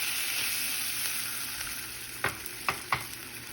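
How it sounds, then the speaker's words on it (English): Lemon juice sizzles in a hot pan already holding white wine for a fish butter sauce, a steady close hiss and bubbling with three sharp stirring clinks toward the end. "Then we'll add lemon juice."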